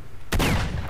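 Enemy gunfire in the shooter video game S.T.A.L.K.E.R. Shadow of Chernobyl, a sudden close burst of shots with a sharp crack that rings out briefly after a quiet moment.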